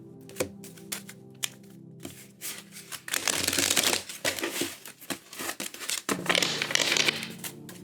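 A tarot deck is shuffled twice, with quick crisp riffles and soft taps in between, close and loud.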